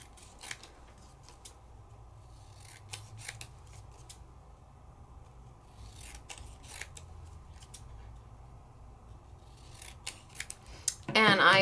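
Scissors snip sandable paper in short bursts of clicks and crisp cuts, quiet and close, with a louder rustle at the very end.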